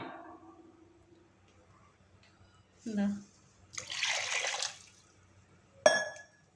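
Water splashes and pours briefly into a cooking pot of rice, followed by a short clink, with a voice speaking quietly before it.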